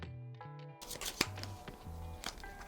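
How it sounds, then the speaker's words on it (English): Oracle of the Wild oracle deck cards being shuffled by hand, a quiet close riffle of papery flicks and soft slaps after a few faint tones, with no talking. "my daughter's going to shuffle on camera right here"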